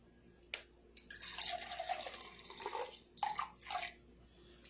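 Filtered water poured into a sugar and powder mixture, a steady splashing trickle with a few brief breaks, close and fairly quiet, with no talking.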